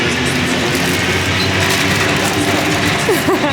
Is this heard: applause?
no